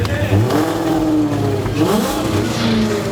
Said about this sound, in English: So we'll see how she sounds. That's some V6, isn't it?